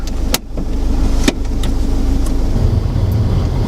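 A 2009 Ford Fiesta Econetic with a five-speed manual gearbox starts up close by: a brief crank and catch, then a steady, even idle settling in, with a few faint clicks over it.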